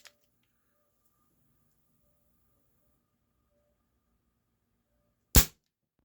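A single sharp crack from a plastic Barra 1858 Cowboy CO2 BB pistol fires once near the end, close and loud, after a quiet stretch with a faint tick at the start.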